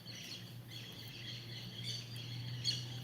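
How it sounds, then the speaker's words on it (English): Many birds chirp and tweet outdoors, a steady chorus of high, overlapping calls swelling in bursts over a low hum, fairly faint and without talk. "where are these birds from? There's so many."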